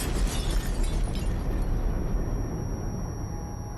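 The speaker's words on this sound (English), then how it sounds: "Suddenly, the camp is shaken by a powerful explosion." Powerful explosion as SS men blow up the last Birkenau gas chamber, a heavy broadband rumble and crash that fills the opening seconds, then settles into a lingering roar, with no talk.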